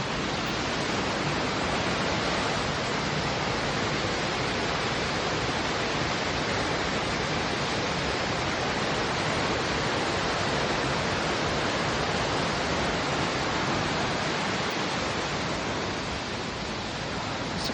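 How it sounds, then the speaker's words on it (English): A small waterfall on a hiking trail gives a steady, dense rush of falling water that fills the scene evenly, loud and constant from start to finish, with no voices. "There's a little waterfall here."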